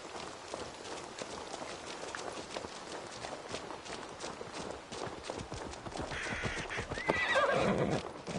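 A horse in Assassin's Creed Valhalla clip-clops along nearby with quick repeated hoofbeats, then whinnies loudly near the end.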